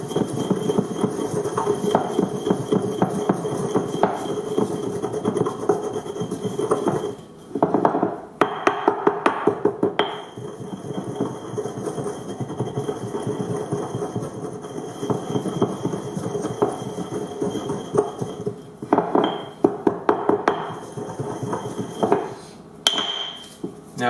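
Spices being ground in a mortar and pestle while making spinach enchiladas, a steady close-up run of rhythmic scraping and knocking strokes that pauses briefly now and then, with no one talking.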